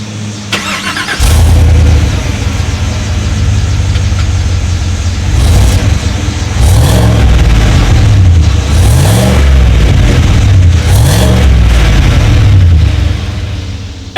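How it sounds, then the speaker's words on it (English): A 2019 Chevrolet Suburban with a single exhaust outlet starts up, settles into a deep idle, then is revved several times in quick blips before dropping back to idle. "So as always, you guys, here is that exhaust clip."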